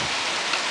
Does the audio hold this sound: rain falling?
yes